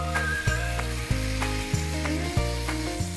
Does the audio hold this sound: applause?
no